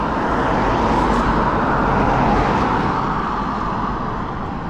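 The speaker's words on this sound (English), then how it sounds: "Just wait for the traffic." Steady road traffic rolls past a commuter e-bike waiting at the roadside, a continuous loud wash of car and engine noise with no voices.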